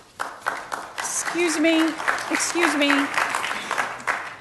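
Applause from an audience at a city council meeting, a dense wash of clapping that swells and then continues steadily, with someone speaking briefly over it.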